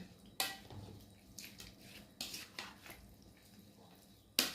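A radish salad made kimchi-style is stirred with a spoon in a bowl, giving faint, close scrapes and clinks against the dish with soft wet squishing between them.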